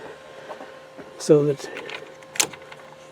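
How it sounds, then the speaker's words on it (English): A model railway turnout is switched by hand, making a short mechanical clack midway and a sharp click afterward. The speaker talks quietly around it. "of course before I do that I have to switch my turnout here"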